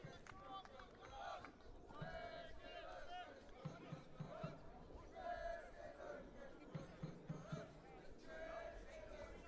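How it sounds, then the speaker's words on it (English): A crowd at an evening NPL football match between Brisbane Roar Youth and Olympic FC, with scattered shouts and chatter rising and falling in the distance, under a commentator's voice. "we've got a good crowd in attendance here this evening now"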